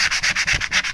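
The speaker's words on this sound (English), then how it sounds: "I'm just trying to scrape off the excess" Excess coating scraped off fabric in quick, regular back-and-forth rasping strokes, about seven harsh scrapes in under a second, close and dry, with no speech.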